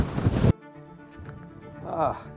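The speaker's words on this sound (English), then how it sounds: "This wind is crazy!" A loud burst of wind buffeting the microphone cuts off abruptly, followed by quieter rumbling gusts and a faint voice.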